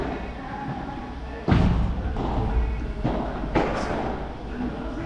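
A padel ball strikes the side wall during a professional P100 quarter-final in an indoor arena, with two sharp thuds about two seconds apart heard over crowd murmur and a commentator talking.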